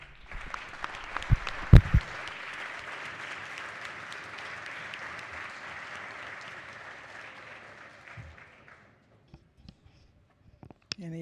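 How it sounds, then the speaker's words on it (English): Applause for guests in a state House chamber, a full round of clapping that holds steady for several seconds then fades into near silence with a few scattered claps and clicks. "Please let's give them a big round of applause."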